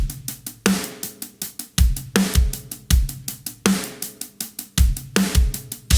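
Basic drum kit groove played on kick, snare and hi-hat, a steady repeating pattern of deep kick thumps and sharp snare cracks over even, busy hi-hat ticks, close and loud with no talking.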